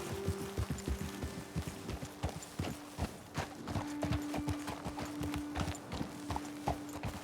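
Rapid clip-clop of horse hooves on hard ground in Red Dead Redemption 2, steady and close, with a low sustained hum and faint clatter underneath.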